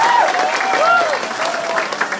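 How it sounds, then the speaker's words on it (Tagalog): An audience claps loudly in a steady, dense burst of applause, with crowd voices and shouts rising over the clapping. "Yung pinakamalakas sa palakpak,"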